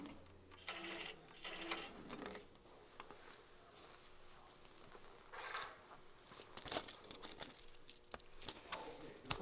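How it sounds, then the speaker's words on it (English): A sewing machine bastes along a fabric edge in short quiet bursts of stitching separated by pauses, with small clicks and rustling handling noises close by. "I'm just going to go back and baste along the edge a second time."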